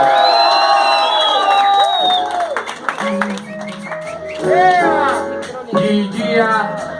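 A crowd shouts and cheers loudly over music, with whoops and cries rising in bursts throughout.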